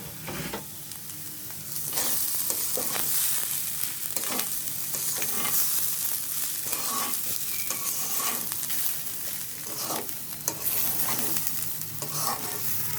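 Rice and onion frying in oil for bhuna khichuri, a steady close sizzle with repeated scraping strokes of a spatula stirring through the pan, no voices.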